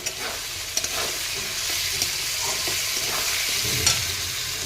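Fried potatoes and broad beans stir-fry with spices in a pan, a continuous sizzle broken now and then by spoon scrapes and light taps on the pan.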